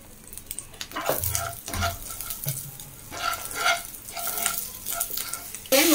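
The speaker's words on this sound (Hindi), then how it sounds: "ये मटर मिला देंगे" Peas being stirred into roasted spices in a pan while making aloo chaat, a soft sizzle under repeated scraping and clattering strokes of a spoon in uneven bursts, close and fairly loud, with no talking.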